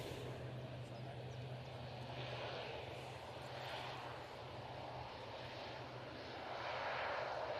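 A Boeing 787 Dreamliner departs Manchester Airport for Paphos, its jet engines a faint, distant rumble and hiss that stays fairly even, rising a little near the end.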